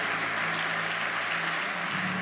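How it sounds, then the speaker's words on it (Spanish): A church congregation applauds during a sermon, a dense continuous wash of clapping from many hands that fills the room evenly, with a low tone and faint murmur beneath. "Y yo de usted le daría un aplauso al Señor."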